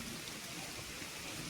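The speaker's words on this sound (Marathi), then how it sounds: "आणि पाऊस बघा किती पडतोय" Heavy unseasonal rain pouring down in the Konkan, a steady dense hiss of drops on surfaces, continuous and even, with no voices over it.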